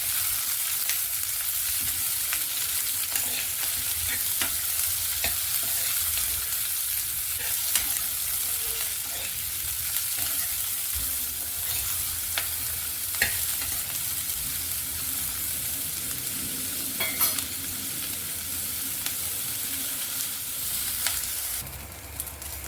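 Thinly sliced onions frying in a pan until browned, a continuous loud sizzle with occasional stirring scrapes and faint clicks, steady throughout and without any voices.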